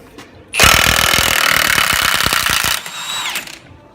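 A power tool rattles off an axle nut in sustained, hammering bursts, loud and close, that stop and then give way to a brief, whining spin-down.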